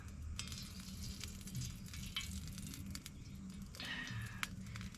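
Food sautéing in a pan over a wood fire at a forest campsite, a steady low sizzle with occasional stirring scrapes and clinks, quiet and close, no talking.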